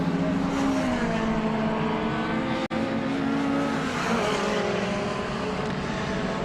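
Touring race cars cross the start-finish line at Donington Park, a steady, loud engine drone with a continuous roar that holds its level throughout, sounding close and unbroken.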